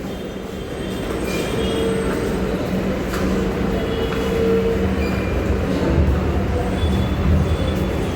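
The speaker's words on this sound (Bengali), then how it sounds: "এখন আমরা চলে এসেছি এই মেট্রো স্টেশনের কাছে" A metro train rumbles steadily at a metro station, with a continuous low roll of wheels and faint squeals, loud and close, with no talk over it.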